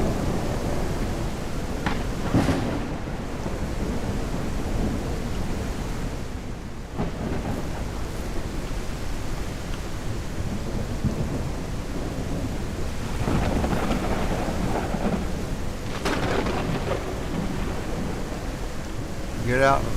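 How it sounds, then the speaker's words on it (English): Thunderstorm with rain in the ranching video game Ranch Simulator, a steady loud wash of rain with deep rolling thunder swelling several times, while someone talks over it. "Damn, that thunderstorm is loud."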